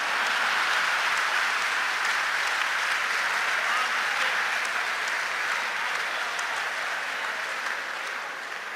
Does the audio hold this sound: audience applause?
yes